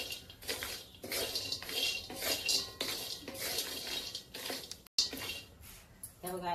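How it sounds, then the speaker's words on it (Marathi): Nutmeg roasting with a little oil in a pan for homemade Malvani masala, with repeated scraping and rattling of a utensil against the metal and a brief pause before the stirring resumes. "हे बघा ह्या मी जायफळ भाजताना थोडासा तेल घालतोय"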